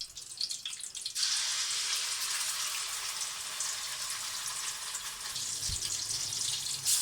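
Onion, garlic, tomato and chili paste fries over high flame in hot oil in a kadai, a loud, steady close-up sizzle that starts suddenly after a moment and keeps hissing with no talking.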